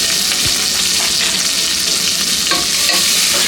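Crushed garlic, long-cut green chillies and curry leaves fry in hot ghee, giving a loud, steady sizzle with a few scrapes of a spoon stirring through the pan.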